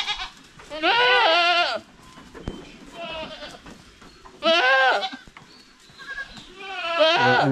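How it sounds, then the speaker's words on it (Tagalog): A loose young goat bleats loudly and repeatedly in long wavering cries, with quieter bleats and rustling between the calls, near and clear. "May kambing kayo, oh. Napakaingay."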